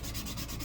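A brief, steady rasping rub of a sanding block scraping back and forth across painted wood, close up.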